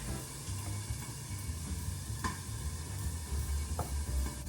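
Shredded carrots are stirred into a chicken and rice casserole, a steady soft scraping and shuffling over a constant low hum, close by with a couple of light clicks and no talking.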